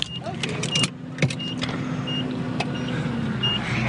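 A truck rigged up as a jacuzzi gets driven off, its engine humming low under scattered clicks and thumps, with brief voices nearby.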